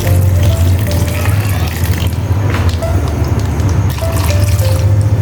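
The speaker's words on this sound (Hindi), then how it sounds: "पानी डाल देंगे" Water poured into a pressure cooker holding chickpeas and potatoes, a steady loud close pour with a running, trickling wash over a low background hum.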